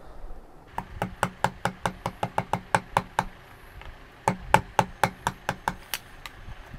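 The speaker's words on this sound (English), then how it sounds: "You'll notice that I'm using the chisel this way, just because I want the bevel to kind of like follow it on the way down." Sharp wooden knocks of a chisel being struck while carving a wooden scoop spoon, about twenty evenly spaced close blows in two quick runs separated by a brief pause.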